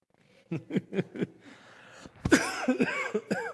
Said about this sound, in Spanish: Me viene una tos, ¿cómo hago?